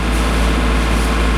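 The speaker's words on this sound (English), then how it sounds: "the motor sounds a little bit better to both of us than it had for the last several days" A boat's inboard motor runs steadily after hours of engine-room repair, cruising up Middle River; a loud, continuous low drone with no sputters or breaks.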